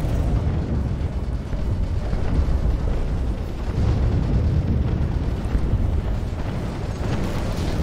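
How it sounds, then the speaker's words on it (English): Planet bombing in the space strategy game Sins of a Solar Empire produces a continuous, heavy rumble of overlapping explosions, a thick low roar that holds steady without pause. "Oh, they are bombing the planet, you bastards."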